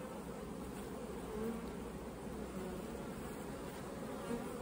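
Dense, steady buzzing of many honeybees in an open hive, a continuous droning hum without pause, close and fairly quiet.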